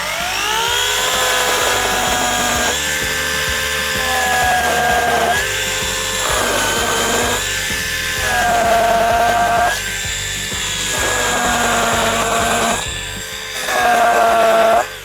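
A small cordless mini chainsaw buzzes at high pitch, its motor rising and dropping in repeated bursts as it bites through wood, close and loud.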